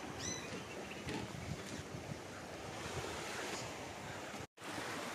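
Waves wash onto a beach in Koh, Thailand, with a broad rushing surf and gusty wind noise on the microphone, fairly faint and continuous, with no talking.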